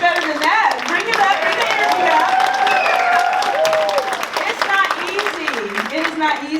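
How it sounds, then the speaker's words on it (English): An audience bursts into sustained applause, dense clapping and some cheering filling the room loudly, while a voice speaks over the crowd noise. "Let's give them a round of applause"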